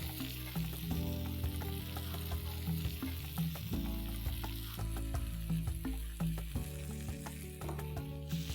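Chicken kebabs fry in a pan with a steady close sizzle and crackle, while utensils scrape and clink irregularly throughout.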